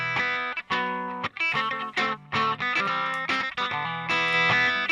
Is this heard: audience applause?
no